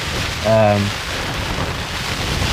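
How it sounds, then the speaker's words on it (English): Steady rain falls outdoors during a DofE Gold hiking expedition, a constant broadband hiss. A brief, tonal vocal sound cuts in once near the start. "It's been raining like pretty much all day."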